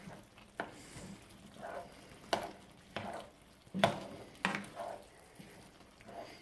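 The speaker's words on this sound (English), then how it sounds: "So add the garlic and the butter, frozen vegetables. Let's stir it up some more." Spatula stirring frozen vegetables with garlic and butter in a pan, with soft sizzling and several sharp scrapes and clacks against the pan at irregular intervals, close and fairly quiet.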